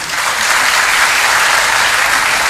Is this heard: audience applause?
yes